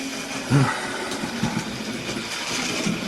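An old OO gauge model locomotive runs backwards along its track, making a soft, steady mechanical rumble with faint rhythmic clicks throughout. No one speaks.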